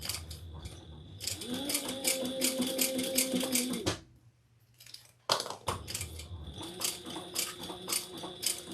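A sewing machine top stitches a handbag in close, whirring mechanical runs. The machine stops for about a second of near quiet, then starts again with steady rattling stitches.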